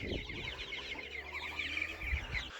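Several hens cluck steadily in a farmyard coop, among chickens including a broody hen sitting on duck eggs, with continuous overlapping clucks at moderate distance.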